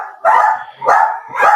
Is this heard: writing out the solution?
no